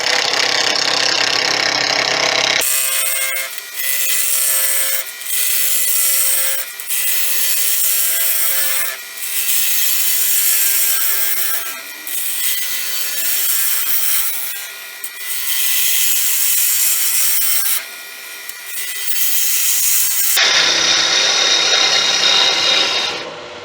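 A wood lathe runs steadily at 2000 rpm, a dense hissing, rasping whine of a tool cutting a spinning pen blank, with brief dips as the cut pauses.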